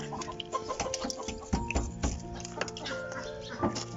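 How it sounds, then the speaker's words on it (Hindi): Several chickens cluck softly and irregularly close by under a vehicle, with occasional louder squawks and a background of faint rustling. "गाड़ी के नीचे बतखें, तीतर वगैरह सारी मुर्गियाँ मौजूद हैं।"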